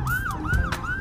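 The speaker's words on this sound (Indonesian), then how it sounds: "ada sirine meninggal atau ini pejabat kayaknya ya" An emergency vehicle siren wails through street traffic, its pitch sweeping up and down in a steady repeating cycle over a rumble of road noise.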